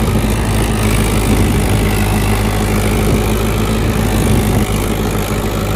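A Mahindra 475 XP Plus tractor engine idles steadily, a continuous low rumble with a broadband mechanical clatter holding even and loud throughout, with no voices.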